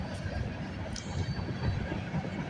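A long freight train rolls past nearby, a dense, steady rumble of wheels and rattling cars with faint clicks of the rails, loud and unbroken throughout.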